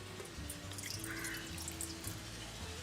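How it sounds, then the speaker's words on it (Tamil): Faint trickle of water pouring into a pot, a soft steady splash at low volume with some background hum. "இதுக்குள்ள கொஞ்சம் தண்ணியாக விடுவோம்."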